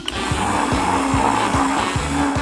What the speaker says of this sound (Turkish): Blenderla çok kolay. Sadece meyveleri içine koyup düğmeye basmalıyım.